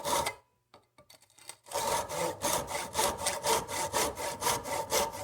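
An old wooden wedge is worked out of an axe head with quick, rhythmic rasping strokes that saw back and forth at a steady pace, heard close after a few scattered taps and a brief silence.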